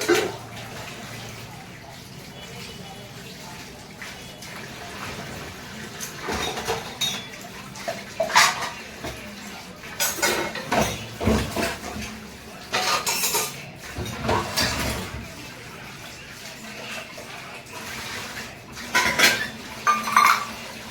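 Dishes, pots and utensils are washed by hand in a home kitchen, heard as irregular bursts of clattering metal and ceramic with splashing water and quieter pauses between them.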